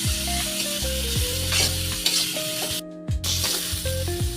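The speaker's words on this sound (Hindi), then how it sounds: "ये अच्छे से कुक हो गई है वेजिस हमारी और इसे थोड़ा सा हम इसी तरीके से चला लेंगे" Cabbage and mixed vegetables for a momo filling are stir-fried in a hot pan, with a steady close sizzle and repeated scraping stirs of a spoon, plus a brief pause partway through.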